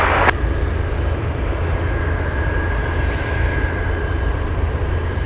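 Alaska Airlines jet taking off from runway 33 at Anchorage airport, a loud steady engine roar with a broad rumbling low end and a faint high whine, held constant throughout after a brief click at the start.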